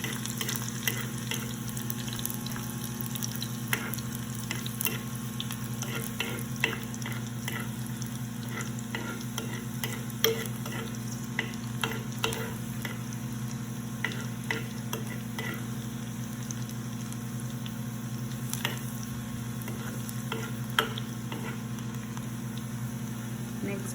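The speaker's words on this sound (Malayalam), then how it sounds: "നന്നായിട്ട് ഇളക്കുക." Dal (paripu) frying in a pan is stirred steadily with a utensil, giving continuous sizzling and scraping with irregular clicks and taps over a constant low hum.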